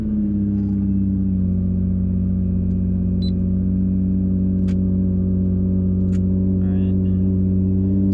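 A Nissan GT-R engine drones loud and close with a steady, deep harmonic rumble as the car gets rolling, a few faint clicks sitting above it.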